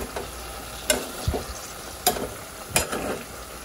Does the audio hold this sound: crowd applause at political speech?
no